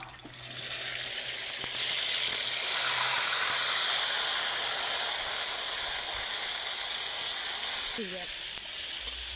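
Tomato pieces dropped into hot tempering oil in a pot on a wood-fired stove for tomato pickle, sizzling and hissing steadily and loudly throughout.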